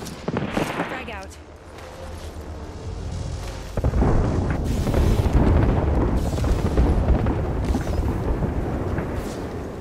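Frag grenade blast in Apex Legends, a heavy booming burst near the middle followed by sustained rumbling combat noise and gunfire, with game voice lines over it.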